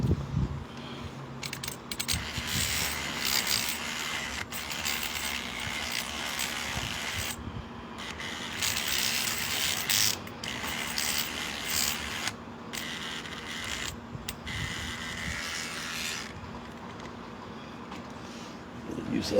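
An electric lockpick built from a toothbrush buzzes in short bursts against a lock, with on-off vibrating whirs and faint metallic rattles separated by pauses, close but fairly quiet.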